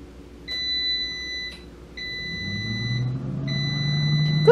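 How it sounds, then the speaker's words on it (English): A kitchen air fryer is switched on: three evenly spaced high electronic beeps come first, then the fan motor starts with a rising, close whir that keeps building to the end. "I have a feeling if I turn on this... Yeah, see, she knows. She knows I'm going to turn this on. She'll probably take off. Because this is the air fryer."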